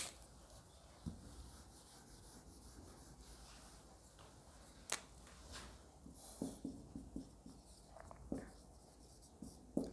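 Chalk or marker scraping on a board during a lecture, soft rubbing strokes with a few sharp taps in a quiet room, no talking.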